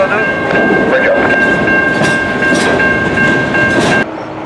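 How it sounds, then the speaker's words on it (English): CP freight coal train of 152 cars rolling past in New Westminster, a loud steady rumble and wheel clatter with a sustained horn-like tone running through, lasting until the sound drops off near the end. "152 car coal train."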